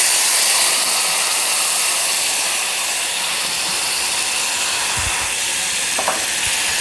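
Tomato-mango paste and raw garlic fry in hot ghee with sugar in a home kitchen, producing a steady, close sizzle and hiss, broken near the end by a couple of soft low thumps.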